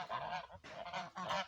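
Muscovy ducks on a farm give a few hoarse, honking calls in quick bursts, close by and fairly quiet, with brief pauses between them.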